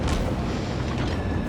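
Gunfire from a Tier 1 American cruiser in World of Warships, a dense, loud, rumbling boom that fills the whole moment with heavy low-end roar.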